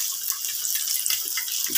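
Water is poured into a pan while an egg and potato curry is being cooked, giving a steady splashing hiss that lasts throughout.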